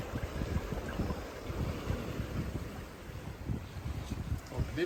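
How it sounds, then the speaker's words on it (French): Wind gusting at 15 to 20 knots while sailing southward off the Turkish coast near Bademli, a steady broadband rush with low buffeting against the microphone and possible water noise, continuous throughout. "on a entre 15 et 20 nœuds de vent"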